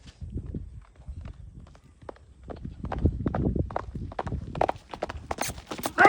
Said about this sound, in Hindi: सावी नुकरी घोड़ी भाग कर आ रही है दोस्तों।